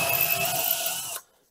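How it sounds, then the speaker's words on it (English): A power drill bores pilot holes for hinge screws in a wooden cabinet frame, making a steady, close whirring grind for about a second before it stops abruptly. "pre-drill my 2 holes"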